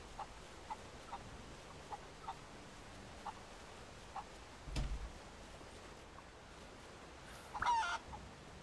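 Chickens in Rise of the Tomb Raider give faint, sparse clucks spaced through quiet ambience, with a louder thump midway and a brief squawking flurry near the end.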